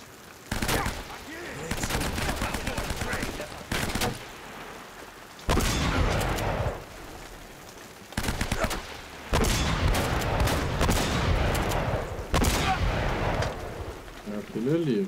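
Gunfire in the video game Uncharted: Drake's Fortune comes in loud bursts of rapid shots separated by brief pauses, several volleys over fifteen seconds, with faint voices underneath.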